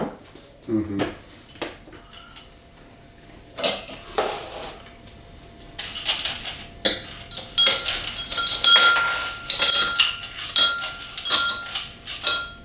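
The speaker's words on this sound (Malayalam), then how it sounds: "അല്പം ഒരു ഐസ് ഇടാം, ക്രഷ്ഡ് ഐസ് ഇടാം." Crushed ice is tipped into a glass for a banana berry mocktail, with repeated close, bright clinks and clatters of ice and glassware building into a busier rattle toward the end; a person talks intermittently.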